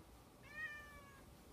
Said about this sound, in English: My daughter's cat's meowing in the background.